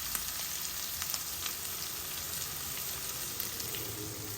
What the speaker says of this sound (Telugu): వేగుతాయి పచ్చిమిరపకాయలు, కరివేపాకు కూడా వేసేద్దాం